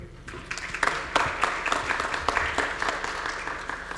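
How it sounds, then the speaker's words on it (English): Audience applause at a university forum on the US–Mexico border at UTEP, moderate and steady with scattered sharper claps, set back in a hall over about four seconds. "I'll let the applause go because I like applause"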